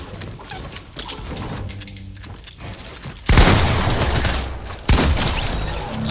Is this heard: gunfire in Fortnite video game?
yes